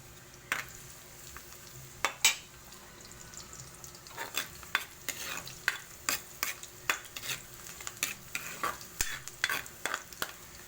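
Garlic frying in oil for meatless adobong kangkong, with a soft steady sizzle broken by a series of sharp spatula scrapes and knocks against the pan, close and clear.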